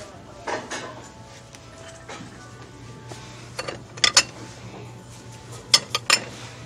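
Cereal bowls, coffee mugs and dinner plates being handled at a thrift store, with close ceramic clinks and clatters in short bursts over a low room hum.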